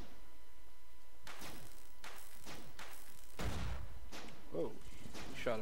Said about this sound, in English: Whoa, shot a missile at Eddie